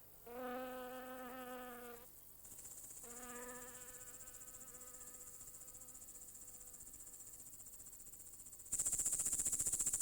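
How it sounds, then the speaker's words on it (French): Grasshoppers and crickets in countryside grass give two loud buzzing insect bursts, followed by a continuous high shrill chirring that swells sharply louder near the end, close and with no voices. "Des insectes, comme les sauterelles et les criquets."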